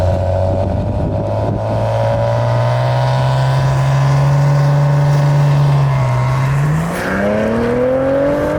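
A Maserati Ghibli S Q4 launching from a standstill to 100 km/h, its engine note climbing steadily and loudly through the revs, with a brief dip at a gear change before it pulls up again.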